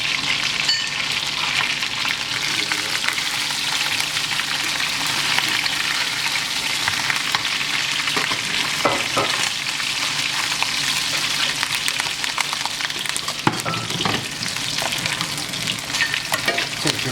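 A sous vide ribeye steak sizzles loudly in a pan while being basted, a continuous close crackling hiss with a few spoon scrapes and splatters near the end.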